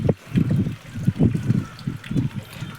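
Water trickling slowly as bulls drink from it, an uneven series of soft gurgling bursts close by, with no one talking.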